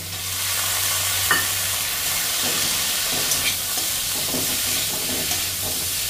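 Soaked chickpeas and cut potatoes sauté in a pan for a vegetarian banana-flower dish: a steady, loud sizzle runs throughout, with a few soft stirring clicks and scrapes and no talk.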